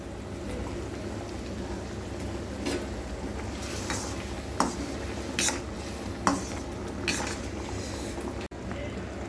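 Steady simmering bubbles of a tamarind mixture for puliyodharai with occasional scraping clinks of a spoon stirring in a pot, close by, over a continuous low bubbling hiss.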